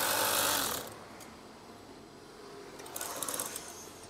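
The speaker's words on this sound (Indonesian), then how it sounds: "Setelah itu, jahit." A sewing machine stitches curtain fabric in short, close runs: a loud burst at the start, a quiet pause, then a second, softer run of needle clatter.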